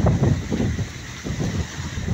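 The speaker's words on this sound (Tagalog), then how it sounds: "Itong hangin na ito, ang lakas niya siguro mga 20." Strong wind buffets a microphone on an island under cloudy skies with choppy sea, a loud continuous roaring rush that swells and eases in gusts, with no voices.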